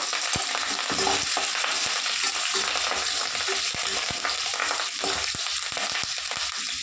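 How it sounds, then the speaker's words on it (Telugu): Green chillies and curry leaves fry in hot oil for street-style chicken 65, a dense, continuous sizzle with scattered spoon scrapes against the pan, close and steady with no voices. "పచ్చిమిరపకాయలు కూడా వేగుతున్నాయి కదా ఇప్పుడు మనం కరేపాకు వేసుకున్నాము"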